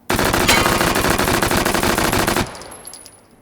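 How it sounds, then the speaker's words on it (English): An MP5 10A5 submachine gun with a collapsible stock, chambered in 10mm, fires one loud, sustained automatic burst of rapid shots in the VR game Hot Dogs, Horseshoes and Hand Grenades, then cuts off with a short fading echo. "the MP5 10A5 collapsible stock. Same fire group,"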